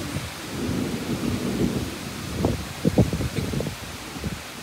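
Thunder rumbles low and close during an evening summer thunderstorm, with rain and wind underneath and a few heavier crackling booms toward the end.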